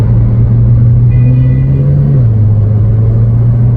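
A steady, low truck engine rumble idling close by, with a slight dip in pitch partway through and no voices.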